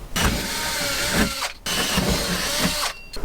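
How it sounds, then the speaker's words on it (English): A power drill with a 2.5-inch hole saw cutting into the wall of a DIY Unimog camper, a steady close motor whine in two short bursts separated by a brief pause. "we're going to drill 2 holes with this"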